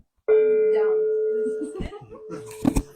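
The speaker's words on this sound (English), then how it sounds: "Ring the bell." A single bell is struck once and rings with a clear, sustained tone that slowly fades, followed by a few voices and a brief laugh.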